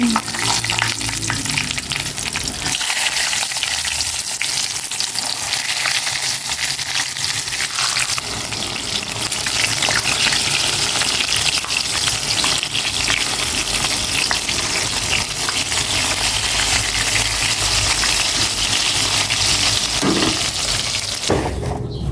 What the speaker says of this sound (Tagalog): Prito naman ako ng talong.